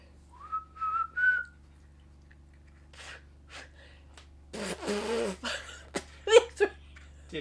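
A woman whistles a song tune as a name-that-song game segment, with a few sustained, wavering notes followed by short breathy and noisy sounds. A low steady hum runs underneath.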